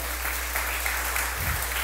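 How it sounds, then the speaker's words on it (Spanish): A church congregation at a Spanish-language worship service applauds in a short, steady burst that continues without a break under a low hum. "Dale un aplauso a Jesucristo nuestro Señor."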